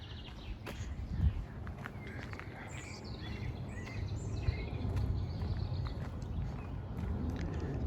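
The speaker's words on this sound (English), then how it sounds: "the sound of singing birds" Birds sing along a trail near the Utrata River, with scattered chirps and short warbled phrases at middle distance over a steady outdoor rumble, broken by occasional footsteps and crunches.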